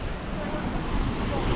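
Open-sea waves off Bermuda, heard from a boat as a loud, continuous rushing roar mixed with wind buffeting the microphone.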